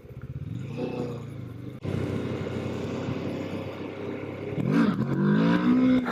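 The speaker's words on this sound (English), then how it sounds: "here's where we're gonna try our first gear" A Kawasaki Ninja 650 motorcycle engine revs and pulls hard in first gear during a wheelie attempt, a steady close drone that dips briefly, then climbs louder with rising pitch toward the end.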